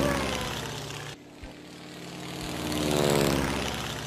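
A cartoon propeller airplane drones past in flight, its continuous buzzing engine loud and close, dipping briefly before swelling again.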